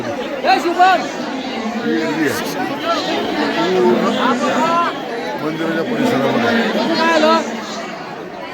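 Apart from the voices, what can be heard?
crowd chatter at the Mahalakshmi temple in Kolhapur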